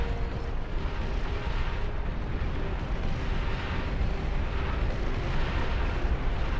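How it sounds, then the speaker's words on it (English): Rapid artillery fire in the real-time strategy game Beyond All Reason, a dense continuous rumble of booms and explosions blending into a steady roar throughout. "the artillery itself has a pretty ridiculously quick fire rate"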